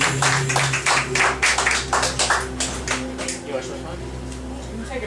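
Audience applause greets a performer introduced on stage, a steady close burst of many hands clapping for about five seconds over a low steady hum.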